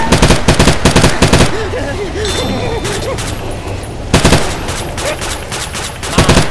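Rapid bursts of automatic gunfire from Left 4 Dead 2 gameplay, loud clustered volleys at the start and again near the end, with a voice speaking briefly between them.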